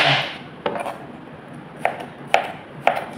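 A knife chops cabbage on a cutting board with several separate crisp thuds spaced about half a second apart, close and fairly loud over a quiet kitchen background.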